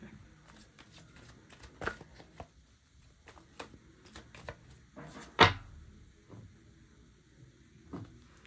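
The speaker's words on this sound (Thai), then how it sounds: "เราเปิดไพ่พร้อมกัน" Tarot cards are shuffled and laid out on a table: soft riffling flicks and taps spread across the span, with one sharper, louder card snap near the middle, all close and quiet.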